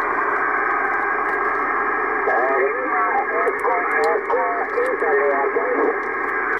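Amateur radio transmission during a QSO, a loud band-limited voice coming through a receiver with steady hiss and brief warbling tones, and someone talking over the radio throughout.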